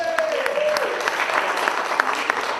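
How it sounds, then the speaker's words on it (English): Audience at a comedy festival show breaks into a round of applause for a volunteer from the crowd, steady dense clapping through the whole stretch with a faint voice briefly underneath. "Everybody give her a round of applause."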